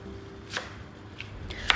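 A knife chops half an onion on a board a few times, crisp separate cuts spaced irregularly, close and fairly quiet.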